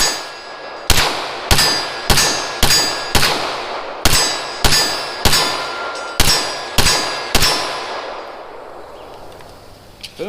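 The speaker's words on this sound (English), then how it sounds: "see if I can continue ringing that steel" Rapid gunshots ring a steel target while shooting with a red dot sight, about a dozen sharp cracks each followed by a bright metallic clang, loud and close, in an irregular but quick rhythm with no talk.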